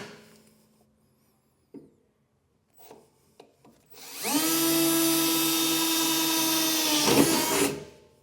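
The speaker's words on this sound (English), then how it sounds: "So we'll go through and get these all drilled out." Power drill boring pilot holes for fifth wheel hitch rails in a 2021 Ford F-series truck bed, a few short taps and bursts, then one loud sustained whining drill run of about three seconds that winds down.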